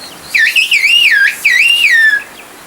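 A long, melodic whistled phrase of the Kuşköy valley whistled language, two loud sweeping bursts of gliding pitch rising and falling, heard alone against quiet open air.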